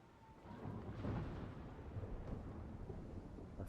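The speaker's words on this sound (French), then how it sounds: "Il commence à pleuvoir." Rain and thunder begin in the video game Mafia The Old Country, a deep rolling rumble under a steady wash of rain, loud and continuous without speech.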